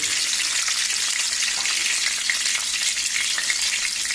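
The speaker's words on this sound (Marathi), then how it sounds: "तातूंत तेल घातलां. तातूंत आतां लसूण घातली" Garlic fries in hot oil in a pan, a loud, dense and unbroken hiss of sizzling held close throughout.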